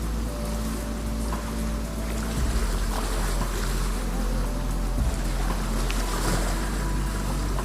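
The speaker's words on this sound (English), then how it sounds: "that's the river raft" Wooden river raft drifting on water in the Albert and Otto video game, a steady wash of flowing water and low rumble with occasional soft bumps, continuous and moderately loud with no talking.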